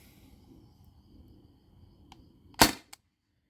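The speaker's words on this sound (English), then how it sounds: "so that's 8 shots right there" A modified T4E TR68 marker running on CO2 fires Alien Play 7.2 gram balls. After a quiet lead-in, one sharp, loud, close report cracks out, followed by a small click.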